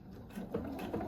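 Sewing machine stitching fabric onto exposed rope for a rope bowl, a short close mechanical whir with a steady motor hum and soft clattering of the needle.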